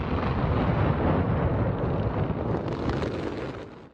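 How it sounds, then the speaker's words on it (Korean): A row of 145 multicolored fireworks laid out over 3 km along a Himalayan mountain ridge goes off as a dense, roaring rumble of bursts. The roar is heard from a distance, sustained for several seconds, then fades out. "굉음과 함께 산등성이를 따라 3km에 걸쳐 설치된 오색 폭죽 145개가 줄지어 터집니다."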